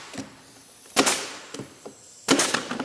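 A nail gun fires into wooden base trim in about four sharp, loud cracks spaced roughly half a second to a second apart, each snapping off quickly, with no talking.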